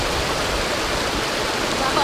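Flowing stream water in a rural river setting in Aklan, a steady broadband rushing wash that is loud and continuous throughout.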